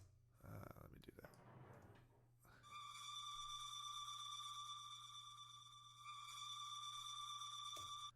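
A creepy, high-pitched synth patch from the Cassette Orchestra engine in Visitor enters after a short breathy, noisy start, then holds steady, piercing tones with bright overtones over a low hum.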